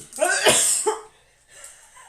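A harsh, close cough in a couple of rough bursts, followed by a quieter breathy sound.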